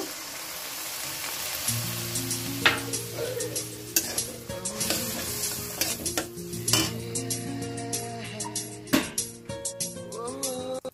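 Mustard paste water is poured into softened tomatoes in a pan for a puti fish curry, then stirred, bringing a bubbling sizzle, clinks of a metal spoon against the pan and scraping, with a steady tone humming underneath.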